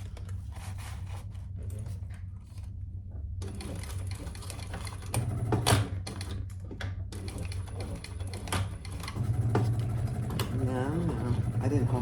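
A sewing machine stitches a large crossbody sling bag, its motor whirring in bursts with a rapid mechanical needle rattle, pausing briefly between runs, close by, while a person talks intermittently.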